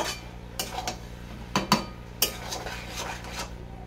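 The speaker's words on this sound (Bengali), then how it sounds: "ঘিটা দিয়েও এইভাবে আবার নেড়ে চেড়ে নেবো" Utensil scraping and clinking in a pan while cabbage curry is stirred with ghee, several distinct metallic taps spread over a steady low hum, close and moderately quiet, no talking.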